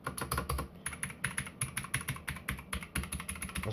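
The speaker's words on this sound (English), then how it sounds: "I actually enjoy the click sound of the mechanical keyboards." Fingers type quickly on a mechanical keyboard, close and crisp, with a rapid irregular stream of sharp key clicks and clacks.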